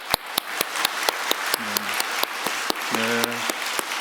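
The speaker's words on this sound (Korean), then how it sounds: "우리 교회 오신 것을 환영하고 축복하는 마음으로 우리 박수하도록" A church congregation claps in welcome for newly arrived pastors at a Sunday service, a steady, sustained round of applause from a large crowd filling the whole stretch, with a brief electronic tone sounding twice in the hall.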